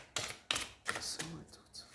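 Oracle cards are shuffled by hand in a few quick, close riffling bursts and slaps, fairly quiet, with a soft voice faintly present.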